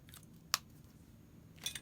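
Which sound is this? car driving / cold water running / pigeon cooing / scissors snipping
scissors snipping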